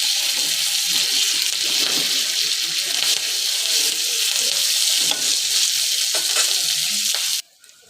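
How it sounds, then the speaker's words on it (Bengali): Potatoes with curry leaves frying in a pan for a spicy semolina dish give off a loud, steady sizzle that runs unbroken for several seconds, then cuts off sharply near the end, with no talk. "আর কারি পাতা দিয়ে দেবো, দিয়ে আমি আলুটাকে আবার একসঙ্গে করে ভালো করে ভেজে নেব।"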